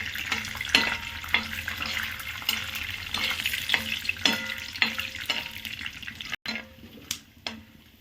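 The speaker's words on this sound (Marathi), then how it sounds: "तेल टाकले त्यात आपण शेंगदाणे टाकणार आहे भाजायला" Peanuts roast in hot oil in a pan, a steady sizzle broken by repeated scraping stirs and clinks of a spatula, close and fairly loud with no talk.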